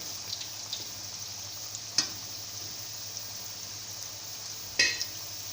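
Pakoras frying in a pan of hot oil for kari pakora, a low steady sizzle with a faint hum, broken by a couple of sharper crackles or stirring clinks, with no talking.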